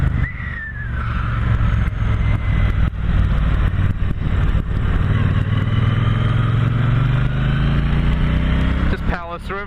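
A 2016 Triumph T120 motorcycle engine drones and rises in pitch as the bike accelerates along a road, loud and close with steady rumble and whistling wind, and a rider talks over it.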